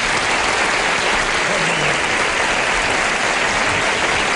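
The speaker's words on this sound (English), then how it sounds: "let's give a polite round of applause to Monica Getz and Jane Armstrong" A 1975 television game-show studio audience gives a steady round of applause, a dense, constant wash of clapping that stays at one level throughout with no clear start or finish.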